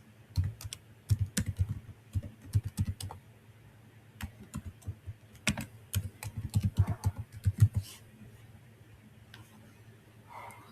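Email address being typed on a computer keyboard during an online scholarship account sign-up, a steady run of close, quiet key clicks in short bursts with brief pauses, no talking.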